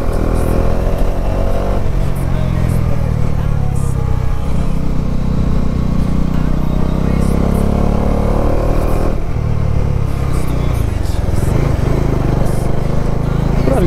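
A Bajaj Dominar 400 motorcycle rides through hilly roads with its engine drone held steady and loud throughout, overlaid by constant wind buffeting and slight shifts in pitch.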